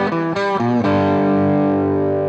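A quick electric guitar fill from a song, a few staccato double-stop notes followed by a long sustained ringing chord, played alone and close with no talking.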